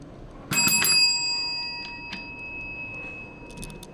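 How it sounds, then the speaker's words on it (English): A counter bell in an office lobby is tapped a couple of times in quick succession, giving bright ringing dings that linger and fade, followed by a few faint softer taps. "So there's the bell."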